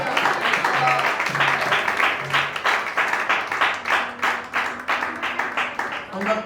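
An audience at a graduation ceremony claps steadily in praise, a dense, continuous wash of hands beating together while a voice carries on over it.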